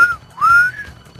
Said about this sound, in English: Tell me this is a good whistle.